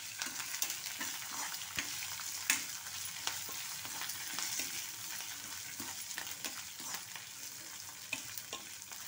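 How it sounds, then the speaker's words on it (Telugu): Green and dry chillies fry in oil for a citron pulihora, a continuous soft sizzle punctuated by frequent sharp stirring clicks and scrapes, fairly quiet and without voices. "పచ్చిమిరపకాయలు, ఎండుమిరపకాయలు కూడా వేసేసుకొని ఇవి కూడా వేగిన తర్వాత మనం ఇంగువ అనేది వేసేసుకోవాలి"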